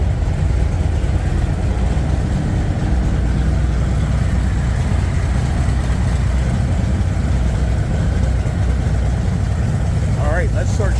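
Several motors hum together in a cluttered space during a cleaning session, a steady, dense low drone that holds throughout, with voices talking over it.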